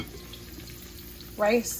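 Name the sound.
food frying in a pan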